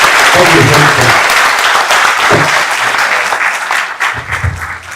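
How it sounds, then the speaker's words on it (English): Loud, sustained applause from the audience at a memorial lecture on entrepreneurship, dense clapping close to the microphone, with a voice speaking over it in places. "Big round of applause again."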